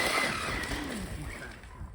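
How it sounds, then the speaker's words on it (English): A Traxxas Slash 4x4 RC car with a Hobbywing 10BL120 brushless combo on 3S and a 14T pinion drives outdoors in the cold, its motor whining and tires scrubbing continuously at close range as it attempts a wheelie. "Gonna try to do a wheelie."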